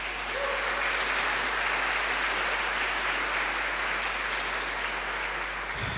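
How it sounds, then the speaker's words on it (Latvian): Sustained, loud audience applause fills a ceremonial hall at a university constituent assembly, following a choir's song performance; steady clapping from a large crowd continues evenly for several seconds with no talk over it. "Vēlreiz aplausi!"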